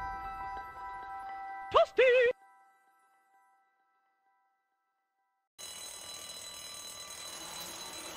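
Alarm in the video game The Walking Dead: a few tonal beeps, then two short warbling rings, silence, and a bright buzzing ring returning near the end.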